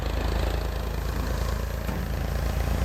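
Tractor engine labouring steadily as it pulls up a hill during soybean harvest at sunset, a continuous low rumbling drone with no breaks, fairly loud and close, with no talking.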